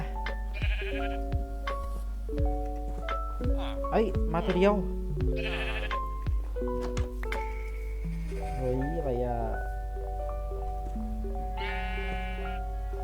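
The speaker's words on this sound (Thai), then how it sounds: "แกะดำมา" Sheep in Minecraft bleat several times in short, wavering calls over steady game music, while someone talks excitedly throughout.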